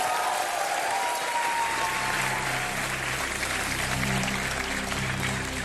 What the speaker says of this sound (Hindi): ताली बजाया जा